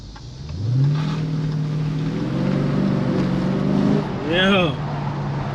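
Dodge Charger Scat Pack with the 392 engine driving on the road, a deep engine note climbing in pitch as it accelerates, then easing and revving again, with a brief voice near the end.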